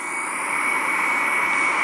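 Boeing 747 jet engines in the Simple Planes game held at partial throttle, a steady loud roar with a strong sustained whine, constant and unbroken with no talking.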